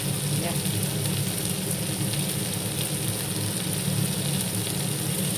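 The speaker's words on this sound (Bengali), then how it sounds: "এই যে আলুগুলো দিয়ে দিয়েছি, দিয়ে আর ভালো করে একটু কষিয়ে নিচ্ছি" Potatoes sauté in a hot pan for a home dinner, giving off a continuous, even sizzle and crackle close up that holds steady throughout with no speech.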